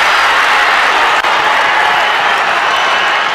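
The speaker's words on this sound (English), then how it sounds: "Listen to the crowd." A crowd at the Bendigo senior football grand final between Sandhurst and Eaglehawk roars and applauds continuously, a loud, dense wall of cheering and clapping that holds steady throughout.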